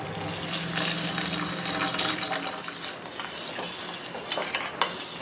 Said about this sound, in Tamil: காய்ச்சின பால் ஆட் பண்ணிக்கலாம்